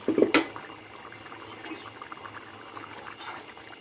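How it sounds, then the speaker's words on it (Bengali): Moong dal broth with vegetables and a fish head boils in a covered pot, giving a soft steady bubbling and faint liquid patter after a brief clatter at the start. "ডাল এর ঝোলটা ফুটে উঠেছে।"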